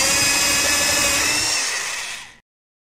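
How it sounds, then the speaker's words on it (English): In a children's video game, a drill bores a hole into a tree trunk to tap sap, giving a loud, steady whirring buzz for about two seconds before it cuts off abruptly. "First, drill a hole in the tree."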